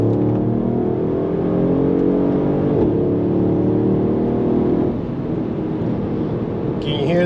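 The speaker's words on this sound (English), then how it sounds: "that's a proper V8 right there" A 2019 Mercedes-Benz GLS 550 AMG V8 heard from inside while driving, a loud steady engine drone with rising harmonics as it pulls, easing slightly near the end.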